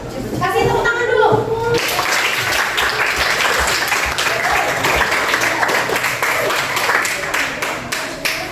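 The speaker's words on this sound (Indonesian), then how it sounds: "Kasih tepuk tangan dulu." A class of children breaks into clapping and cheering after a voice speaks at the start. The noisy, crowded applause with some children's voices continues throughout.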